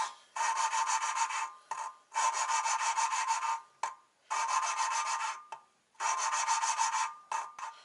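Grinding a valve seat by hand on a Nissan RB25DET cylinder head gives loud, close, gritty rasping in four long even bursts. Each burst is split by a short pause as the valve is lifted and turned.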